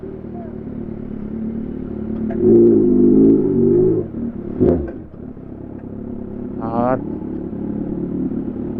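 A 2022 Kawasaki Z1000R motorcycle engine idling and rumbling close up while being ridden in to park, with a brief rev swell midway; someone talks over it throughout.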